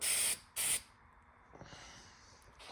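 Two loud bursts of aerosol spray paint laying down a heavy black coat over primer, each lasting under half a second with a short gap, followed by faint room quiet and a soft rustle.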